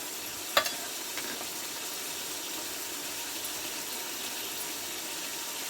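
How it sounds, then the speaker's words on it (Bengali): Beef liver frying in oil, a steady broadband sizzle with a few faint scrapes of stirring and one sharp clink near the start, continuous and fairly quiet with no voices. "তো আমি প্রথমে কলিজাটা তেলের মধ্যে ভালো করে নেড়ে চেড়ে কষিয়ে নিচ্ছি।"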